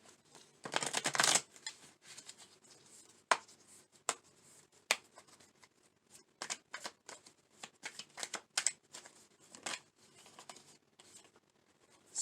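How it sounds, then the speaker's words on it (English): Tarot cards are riffled and shuffled close by, a dense flurry of flicking at first, then scattered taps and snaps as the deck is handled. "I'm going to shuffle one more time."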